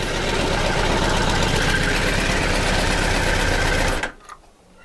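A Kawasaki GTR1000 motorcycle engine idles loud and close with a steady, busy mechanical rattle, then is switched off and cuts out abruptly, leaving near silence with a faint brief tick.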